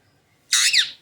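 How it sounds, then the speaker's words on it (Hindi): A pet parrot lets out a single sharp, loud squawk lasting about half a second, up close, shrill and rasping, with a slight dip in the middle before it fades out. "तोते मिठू।"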